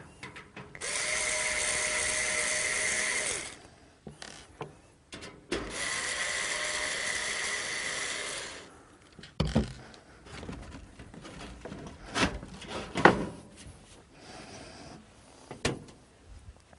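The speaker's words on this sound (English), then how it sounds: "So I'm going to take that panel off here." A PC chassis side panel being taken off: two long, steady scraping stretches of metal sliding against metal, followed by scattered knocks and rattles as the panel comes free and is handled nearby.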